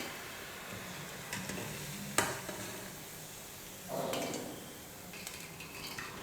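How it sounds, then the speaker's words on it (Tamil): Leftover chapati dough balls deep frying in hot oil, a steady low sizzle with a couple of sharp clinks and a brief louder bubbling burst midway, no voices. "இதே போல் உருண்டை பண்ணி வச்சுருக்கிற எல்லா மாவையும் எண்ணெயில் போட்டு பொரிச்சு எடுத்துக்கிறேன்"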